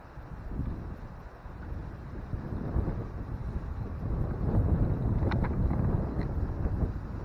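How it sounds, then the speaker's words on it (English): Strong wind roars steadily outdoors across an open park on a morning walk, a loud, continuous buffeting rush against the microphone that builds toward the end, with no talking. "This wind is really loud today."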